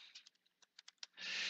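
Typing on a computer keyboard: a scatter of quick, light key clicks at uneven intervals, quiet and close, ending in a brief burst of broad hiss.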